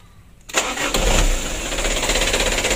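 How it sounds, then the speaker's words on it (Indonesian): A motorcycle engine clogged with jelly-like sludgy oil is kick-started with the throttle open and catches at once. It bursts into a loud, close, steady running roar that continues without a break. "Kalau dipancal gasnya langsung hidup."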